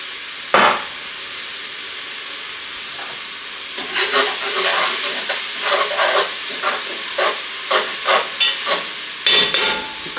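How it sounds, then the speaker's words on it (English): Onions sauté in a pan with a splash of Worcestershire sauce: a quiet sizzle after one sharp tap, then a busier stretch of stirring scrapes and crackling over the hiss. "Couple more minutes of sauteing the onions"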